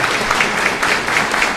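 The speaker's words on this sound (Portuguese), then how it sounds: "Recebe os aplausos dos senhores e senhoras José Natal de Oliveira" An audience in a ceremony hall applauds an honoree receiving a citizenship title, loud, continuous clapping from many hands close by.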